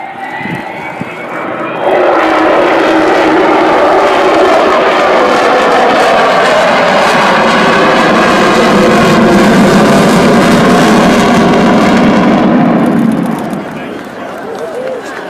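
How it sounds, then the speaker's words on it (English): The four Rolls-Royce Bristol Olympus jet engines of Avro Vulcan bomber XH558 roar continuously and loudly at Dunsfold, swelling into a thunderous, rumbling howl that holds for several seconds before easing slightly. "That's the sound of 4 Rolls-Royce Bristol Olympus engines"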